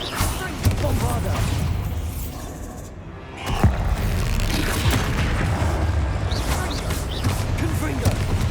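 A Bombarda spell explodes in the Hogwarts Legacy video game with a deep boom partway through, set among continuous clattering combat noise and spoken voices.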